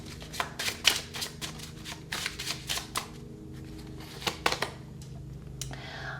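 A deck of tarot cards is shuffled close up in quick, riffling bursts of papery flicks separated by short pauses.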